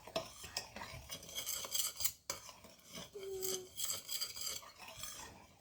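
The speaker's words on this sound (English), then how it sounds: "And you give it a bit of a mix. So I use a knife." A bread knife mixing no-knead bread dough in a bowl, with irregular scraping and clinking of the blade against the bowl sides, close and moderately quiet, no speech.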